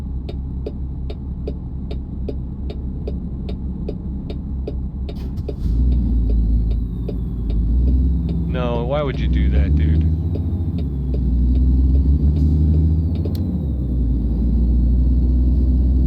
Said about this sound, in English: Because I love this new truck, but it's loud.